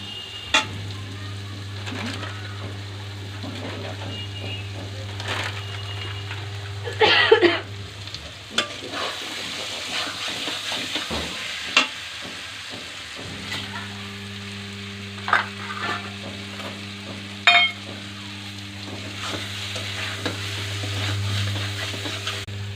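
Curry sizzling in oil as it is sautéed, a continuous frying hiss broken by occasional stirring scrapes and knocks, under a steady low background hum, close and without talk.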